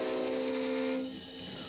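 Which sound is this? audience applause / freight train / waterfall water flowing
freight train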